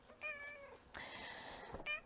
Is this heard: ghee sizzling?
no